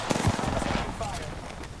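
Spitfire light machine gun bursts in the shooter game Apex Legends, a rapid loud rattle of close gunfire at the start that tapers off, with game noise underneath.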